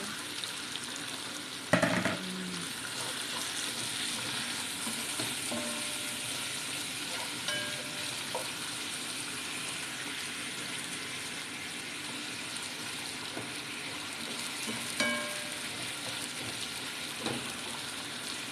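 Mixed vegetables, including mushroom and broccoli, stir-fry in a pan with sautéed garlic, giving a steady close sizzle with occasional scraping stir sounds and one brief clatter near the start, with no voices.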